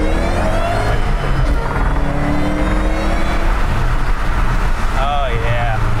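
A 2008 Ford Mustang GT500 with about 540 crank horsepower accelerating hard in second gear, a loud, close engine roar with supercharger whine rising in pitch, then a brief tyre squeal as it slides, with someone speaking over it.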